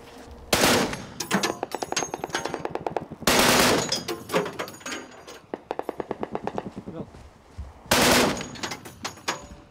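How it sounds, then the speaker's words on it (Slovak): Bursts of machine gun fire aimed at Shahed drones at night during the defense of Kyiv, loud and close, coming in repeated rapid strings with short pauses between volleys, and no talking. "Vojaci museli však strieľať čisto podľa zvuku"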